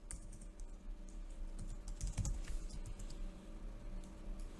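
Steady computer keyboard typing as code is entered, a continuous run of quick soft key clicks at close range with no speech over it.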